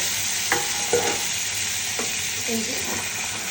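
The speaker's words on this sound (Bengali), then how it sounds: "আস্তে আলতো হাতে একটু নেড়ে নেব যাতে মশলাগুলা উপরে হয়ে যায়" Fried eggplant gently stirred with spices in a pan, a few soft scraping stirs over a steady low sizzle, close and alone without talk.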